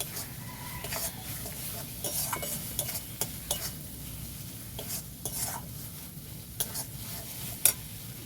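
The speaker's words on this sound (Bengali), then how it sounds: "খুব ভালো করে কষিয়ে নেব।" Chicken is stir-fried with Kashmiri chili powder in a pan, a soft steady sizzle broken by repeated spoon scrapes and clicks, close and fairly quiet, no speech.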